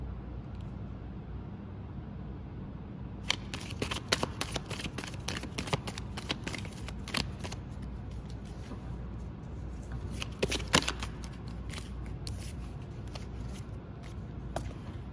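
Tarot cards being shuffled for a pick-a-card reading, a steady papery riffle and slide that runs nearly throughout, with sharper flicks and card snaps clustered at intervals, close and fairly quiet.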